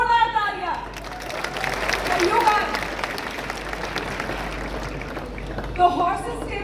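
A studio audience applauds loudly and steadily at the launch of a startup funding show, with cheering, whoops and crowd chatter mixed into the clapping throughout.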